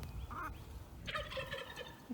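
Silkie chickens on a farm give a few short squawking, warbling clucks, moderately close against quiet outdoor background, with calls bunched at the start and middle.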